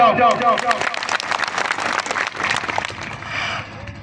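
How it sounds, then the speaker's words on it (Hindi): Loud applause from a crowd at a public rally and speech in Choibari Tea Estate, Dhubri, spreading into dense, steady clapping that lasts several seconds, with voices mixed in underneath. "कमेटी के लिए जोर ताली हो जाओ।"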